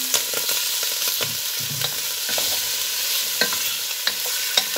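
Pork meat dropped into hot oil for goulash sizzles and crackles steadily, loud and close, with a few sharper pops and stirring clicks and no voices.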